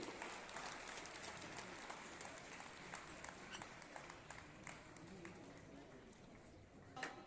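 An audience at a J&K Bank ceremony in Kishtwar claps for an honoree, faint steady applause with scattered sharp claps and voices talking over it.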